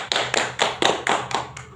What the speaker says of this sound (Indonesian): tepuk tangan untuk Mega.